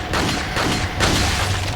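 A frag grenade blast in Resident Evil 4 booms loudly with a dense rumbling burst, followed by further heavy blasts and sustained low roar over about two seconds.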